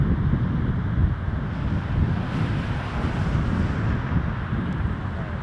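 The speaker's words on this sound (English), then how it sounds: "Getting gusty." Gusty wind buffets an outdoor microphone at an airport, a continuous low roaring rumble that stays loud and steady throughout with no voices.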